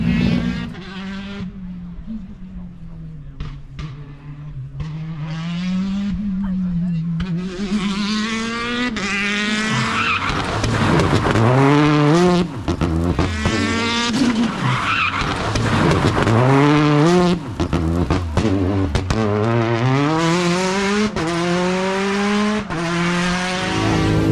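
A Renault R5 rally car driving hard, its engine close and loud, rising and falling in pitch through the gear changes with constant roar and bursts of tyre noise.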